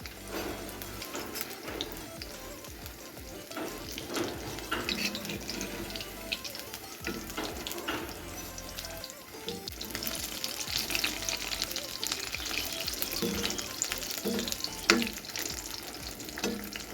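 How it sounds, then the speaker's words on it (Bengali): Eggplant slices fry in a pan at home, sizzling steadily under intermittent stirring and scraping. The sound grows louder and busier partway through, with occasional clatter and no one talking. "বেগুনগুলো ভেজে নিচ্ছি"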